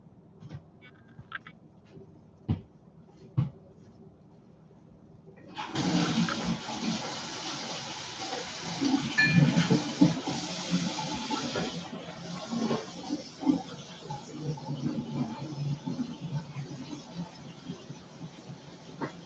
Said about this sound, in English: Pause the water.